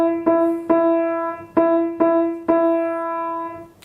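Piano playing the opening phrase of Jingle Bells, five clear repeated notes struck in an even rhythm, each ringing and decaying, close and alone.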